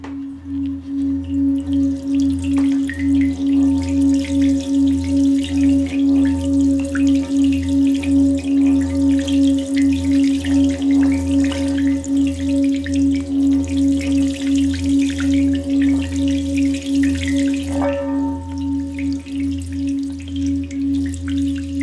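A seven-metal sound-therapy instrument, a singing bowl holding water, gives a sustained pure ringing tone with a slow regular pulsing beat, loud and close, fading slightly near the end with a faint water splash.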